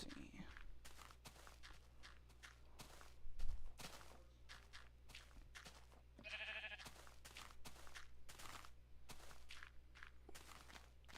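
Sheep bleating in the Minecraft video game, a brief bleat partway through amid rapid, repetitive in-game footstep clicks and a low background hum.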